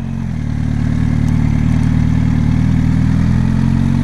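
A Kawasaki Ninja 1000 or Yamaha FZ1 motorcycle engine running loud and close, a continuous low throbbing drone that builds slightly in level, steady with no talk over it.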